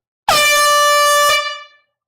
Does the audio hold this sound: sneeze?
no